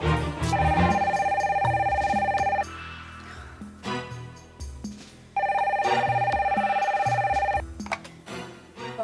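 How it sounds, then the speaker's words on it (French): A telephone bell rings indoors in two long, insistent bursts separated by a few seconds of quieter room sound, loud and close, with no one speaking. "Le téléphone a sonné puis il y avait personne."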